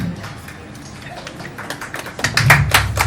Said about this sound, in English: Round of applause for Miss Erica.